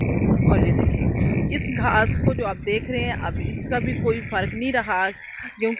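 Frogs croaking in rainwater during the first monsoon rain, a dense chorus of rapid, rattling croaks nearby under someone speaking, with light wind noise.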